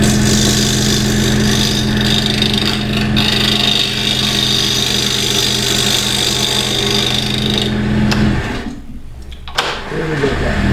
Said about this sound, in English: Finish it off with that scraper.